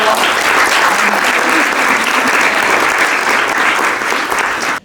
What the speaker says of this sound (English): So if we can please give a round of applause for Abdallah.